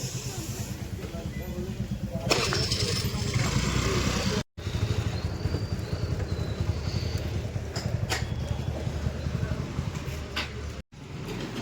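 A motorcycle being tested after a new plug was fitted runs at a steady idle, its rapid, even engine pulse thrumming close by. The sound drops out briefly twice, and faint background noises are mixed in.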